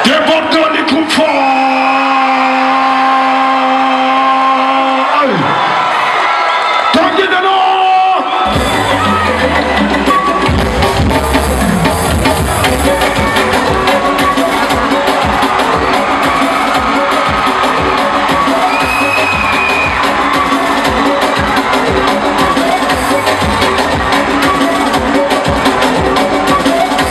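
A concert crowd in Yaoundé, Cameroon, cheers, yells and applauds loudly for the performers, a dense sustained roar of many voices after a short musical passage, with an amplified voice also heard through the noise.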